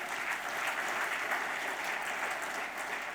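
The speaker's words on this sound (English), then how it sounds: "give him a round of applause" Steady applause from a seated audience at a business conference session, a dense even clatter of clapping lasting a few seconds without pause.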